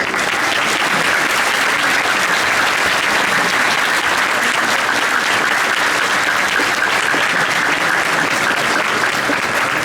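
A crowd gives another round of applause at a September 11 Freedom Walk event, the clapping thick, loud and unbroken from start to finish.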